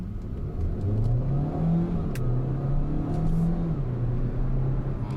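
A Hyundai Kona Iron Man Edition accelerates with a steady, close engine drone that rises and falls in pitch through the gear changes, loud and continuous, with no talking.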